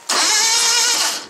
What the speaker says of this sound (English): Cranking!